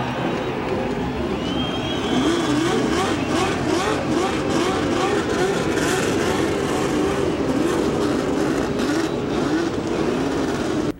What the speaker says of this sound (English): So the engines are started